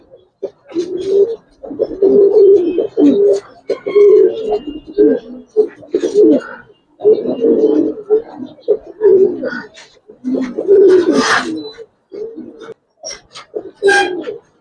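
Silver Giribaz and colored pigeons coo close by in repeated throaty bursts, loud and rhythmic, with brief pauses between calls.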